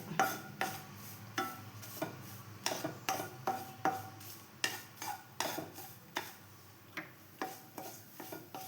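Tomato chutney ingredients, including curry leaves and cumin, are dry roasted in a pan without oil, and a spoon stirs and scrapes them in soft, rhythmic strokes that repeat steadily throughout.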